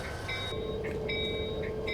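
Southern Pacific locomotive on Donner Pass in Train Simulator 2019 rolls past with a steady low rumble and faint tonal squeals, heard alone at moderate volume.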